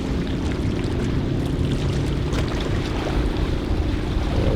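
Water sloshes and laps steadily outdoors while wind rumbles across the microphone, a constant, fairly loud wash with no voices.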